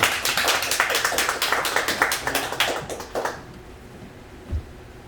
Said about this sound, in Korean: 큰 박수로 받아주시면 감사하겠습니다